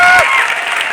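Audience applause at a motivational business seminar, loud and dense through the whole second, with a brief tonal voice-like sound at the very start.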